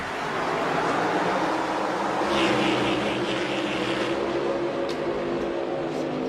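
A pack of stock cars racing at Orlando International Speedway in NR2003 gives off a steady, dense engine roar throughout, with a passing swell in the middle.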